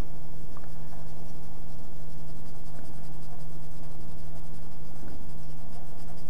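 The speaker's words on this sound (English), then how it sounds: "So little strokes. And just do little circles." A graphite pencil shades a drawing of a mouth in small strokes and little circles, a soft continuous scratching close up against a low steady hum.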